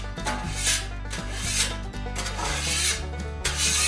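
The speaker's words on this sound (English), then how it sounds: "Scrape all this stuff to the back. All that extra oil." A metal scraper pushes excess oil across a hot Blackstone griddle, making repeated rough rasping strokes that sound close and fairly loud, with a low hum running underneath.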